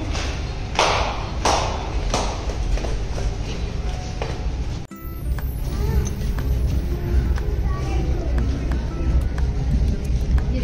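Slippers flapping while someone walks, making a run of light slapping taps and thuds at a close distance over steady background noise, with people talking nearby.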